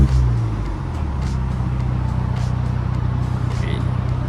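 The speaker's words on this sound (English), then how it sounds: "let's start up the car" A MINI John Cooper Works GP idles with a steady low engine rumble after starting, loud and close throughout, with a few faint clicks above.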